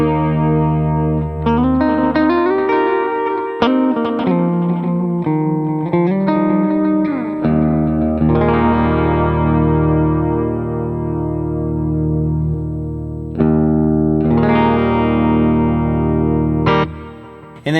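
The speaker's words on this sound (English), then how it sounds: "Then we jump over here to the delay, and I'm running the Vintage Digital." Electric guitar through an HX Stomp modeler with an AC30-style amp and a Vintage Digital delay set to dotted eighths, sustained chords and picked notes trailing rhythmic repeats, played alone at steady level with a brief drop near the end.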